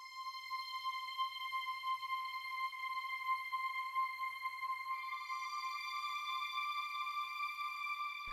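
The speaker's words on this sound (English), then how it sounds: "Next thing we have down here is a little bit of a slow synth sound." A slow, sustained synth tone from a Korg Triton, run in mono through a delay, holds quiet, steady high notes with a slight shift in pitch partway through, set in a 90s smooth jazz downtempo track.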